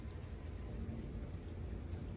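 Steady rain falls in Japan, a continuous even hiss of rainfall on surfaces with no voices, constant and moderately loud throughout.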